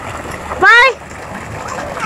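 Water pours steadily from a natural shower at a lagoon, a constant hissing splash, broken by a single loud shout from a nearby voice.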